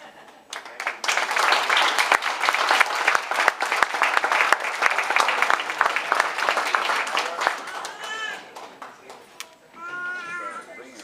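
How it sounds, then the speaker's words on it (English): A graduation audience applauds MA English graduates with loud, dense clapping that swells and holds for several seconds. It then thins out as a speaker's voice comes in near the end. "Let's give all of the MA English graduates a round of applause"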